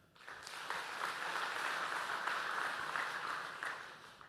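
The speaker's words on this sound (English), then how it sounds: "So just please a round of applause for Natera." An audience at a startup competition's regional finals applauds for sponsor Natera, a dense burst of clapping that swells quickly, holds steady for a few seconds and then tapers.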